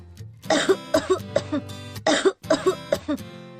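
A run of harsh, close coughs in quick bursts, several hacking coughs grouped together with brief pauses between them.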